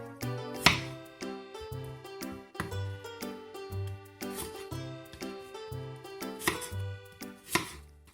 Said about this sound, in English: cut the apples into small cubes.